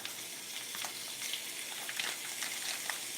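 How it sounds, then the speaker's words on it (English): Bob Evans Original pork sausage sizzles steadily in a frying pan, a close, continuous crackle with small pops and no talking. "Got a little sizzle going on there."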